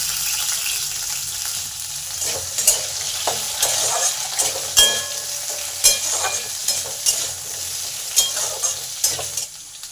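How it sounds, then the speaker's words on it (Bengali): Potatoes fry with spices in a hot pan for a Bengali kalmi greens curry, with a constant sizzle and repeated scraping stirs of a spatula, close and without talk. "এগুলো সব ভালো করে ভাজা হয়ে গেছে, এর মধ্যে আলুটা দিয়ে দিলাম।"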